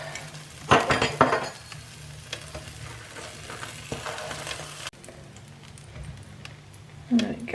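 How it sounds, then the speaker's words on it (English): Food frying in a pan, a steady sizzle with scraping and pressing sounds from stirring and squashing, close by, with a few sharp clanks and a voice talking partway through. "listen to that sizzle"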